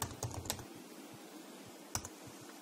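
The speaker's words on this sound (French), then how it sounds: "on va taper moyenne" Typing on a computer keyboard while entering a formula in Excel: a quick flurry of close key clicks, then a pause and a few more scattered taps, soft against a quiet room.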